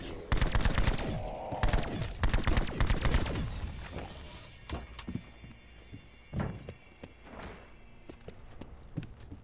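Video game gunfire in a Call of Duty zombies map, loud rapid bursts of shots at the start, then scattered single reports and sparser pops trailing off.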